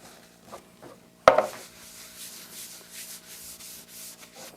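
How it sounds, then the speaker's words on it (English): Wax is rubbed onto a wooden jig for removing planer snipe, giving a steady soft scuffing after one sharp knock, close and quiet. "I'm going to apply a bit of wax for that nice and smooth motion"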